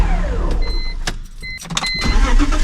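A cheap project car's struggling engine is held alive with throttle, surging and dipping in uneven, loud revs close by, with sharp mechanical bursts throughout.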